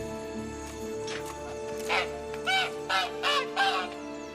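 Caged bird in The Witcher 3 giving a series of harsh squawking calls, several loud bursts in quick succession over a steady game ambience.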